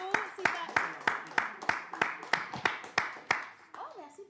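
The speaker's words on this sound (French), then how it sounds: "Oh, merci pour les applaudissements." A TV studio audience claps in a steady, rhythmic beat of sharp, distinct hand claps, about two per second, with voices faintly underneath.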